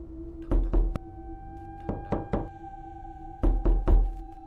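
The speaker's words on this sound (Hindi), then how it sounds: "किसी ने उसका दरवाज़ा खटखटाया।" Knocking on a wooden door as a story sound effect: three clusters of two or three sharp knocks, separated by pauses, close and solid over a faint steady hum.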